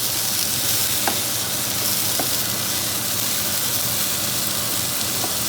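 Smoked paprika stirred into a pan of rabbit paella: a steady, dense sizzle and frying hiss throughout, with a few faint scrapes of the utensil against the pan.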